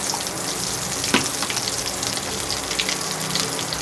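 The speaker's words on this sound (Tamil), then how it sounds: "பருப்பு உசிலியை உருண்டை உருண்டையாக வடை மாதிரி பிடிச்சி அந்த எண்ணெயில் அப்படியே வச்சுருங்க" Balls of lentil usili sizzle in hot oil with a steady, close crackle and a brief splash partway through. No one speaks.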